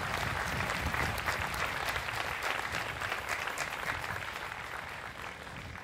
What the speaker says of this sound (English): just a big round of applause for everyone that's out there from Manhasset